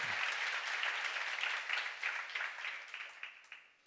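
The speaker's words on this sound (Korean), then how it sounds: "박수 좀 세게 쳐봐." At a church seminar, a congregation breaks into loud, dense applause that stays full for a few seconds and then thins out to scattered claps as it fades.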